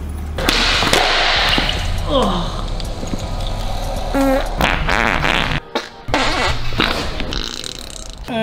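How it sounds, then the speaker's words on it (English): Loud farts and burping-like bursts erupt among a group of people, with short rumbling blasts, thuds and squeaks spread across several seconds while voices talk and react over them. "my God, who farted?"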